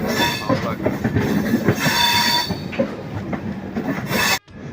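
A passenger train runs through the ghat section near Palakkad in Kerala, with wheels rumbling and squealing and carriages rattling close by. The rumble holds steady and cuts off abruptly near the end.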